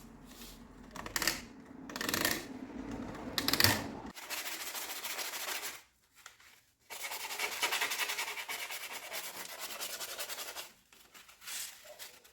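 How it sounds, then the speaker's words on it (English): Stanley knife deburring the inside of a pipe while installing a home water filtration system: close, rough scraping strokes in repeated bursts broken by short pauses, with no speech. "I'm going to use a Stanley knife just to deburr the inside here."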